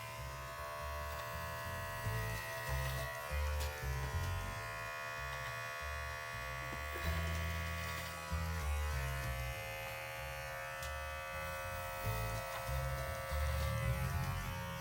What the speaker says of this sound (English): I'm going to shave his chin